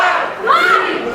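A wrestling crowd at a winter evening show roars and cheers loudly in a brief, dense burst, voices rising together with no single speaker.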